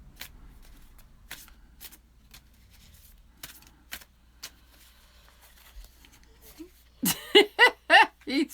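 Oracle cards are shuffled by hand in a quiet room, giving scattered crisp riffling snaps before a burst of loud, close shuffling near the end.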